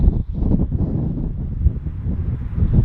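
Wind buffeting a microphone outdoors while sea fishing with crab bait, a continuous low rumbling roar with gusty swells and no talk, close and fairly loud.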